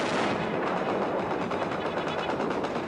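Heavy gunfire from Russian-made 14.5mm anti-aircraft guns in a Lebanese street during the 1982 Israeli attack, a dense, continuous rapid roar that stays loud throughout with no voices.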